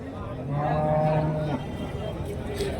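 A cow lows loudly and close by at the Karimangalam cattle market, where dairy and pregnant cows are traded: one drawn-out moo, with faint crowd chatter around it.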